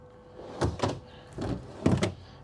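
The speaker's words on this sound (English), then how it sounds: "we've got these 5 full extension drawer glides." Soft-close full extension drawer glides in a 2025 Renegade Explorer 40ERB RV, with drawers sliding shut in close succession: four or five short rolling slides, each ending in a muffled thump, heard close up.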